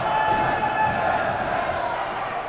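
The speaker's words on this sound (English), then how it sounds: "Crowd clearly behind the Santino Brothers champion in full force." A dense wrestling crowd at a Santino Brothers show roars and cheers steadily throughout, a loud, sustained wash of voices with no breaks.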